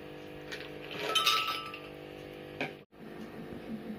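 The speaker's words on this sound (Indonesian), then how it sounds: "Kedua, masukkan es batu secukupnya." Ice cubes drop into a glass for mango juice with a bright cluster of clinks and rattles, followed by a short knock, over a quiet room hum.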